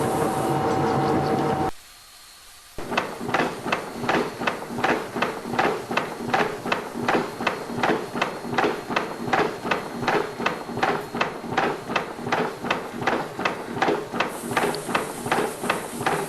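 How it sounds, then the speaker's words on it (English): A disc milling cutter cuts helical gear teeth on a milling machine, giving a steady run of sharp, evenly spaced rhythmic strikes with a constant hiss beneath. A brief quiet gap near the start breaks the strikes, and no one speaks. "see the disc type of milling cutters, disc milling cutters, how it will get cut"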